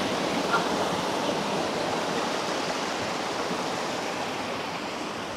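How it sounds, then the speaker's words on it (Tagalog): River current flowing near a waterfall at Pasong Ragattan in Indang, Cavite makes a constant, dense rushing roar, loud and unbroken across the whole stretch, with no one talking. "Ganda ng agos, no?"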